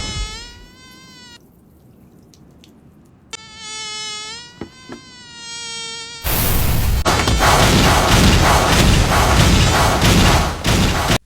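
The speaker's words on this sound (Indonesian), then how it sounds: "Di sini Saitama menepuk nyamuk itu, namun tidak berhasil" In the One Punch Man anime, a mosquito whines in high buzzing bursts. Sharp slap-like thuds break in, and then a loud, dense roar of noise takes over.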